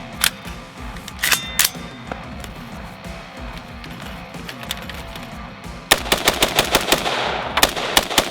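An AR rifle fires a series of loud, sharp shots outdoors, scattered singles and quick pairs early on, then a faster run of closely spaced shots near the end, each cracking over a low background rumble.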